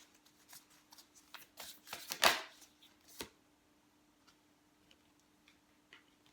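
Oracle cards are shuffled close by, giving a soft run of flicking, riffling taps that builds to a brisk flurry and then fades into sparse light clicks over a faint steady hum.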